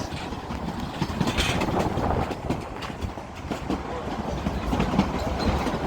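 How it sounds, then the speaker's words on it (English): A diesel train on the Cumbres and Toltec scenic railroad rolls steadily along the rails nearby, with a continuous clickety-clack of wheels and a dense rumble throughout, with no talk over it. "Diesel train following us."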